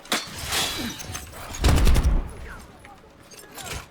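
Video game gunfire crackles in bursts as a grenade is thrown, with sharp shots and a heavier thump near the middle under a player's voice.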